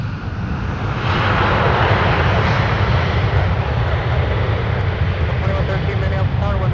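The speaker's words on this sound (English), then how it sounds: "Number 5530, the Airbus is rolling, runway 17" An Airbus airliner rolls down runway 17 at Minneapolis–St. Paul airport, its jet engines giving a loud, steady broadband roar that holds for several seconds.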